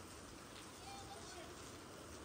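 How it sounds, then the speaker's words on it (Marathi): Heavy rain pours steadily and loudly outdoors as a dense, unbroken wash of noise with no clear pauses. "अजून एकदा पाऊस आला"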